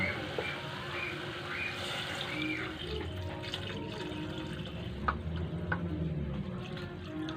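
Water runs and splashes steadily into a cooking pot of pork for sinigang for several seconds, with a faint hiss and occasional clinks behind it.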